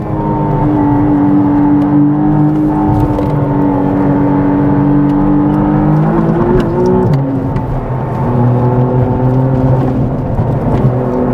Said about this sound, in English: There's a bit of a wheel spin there.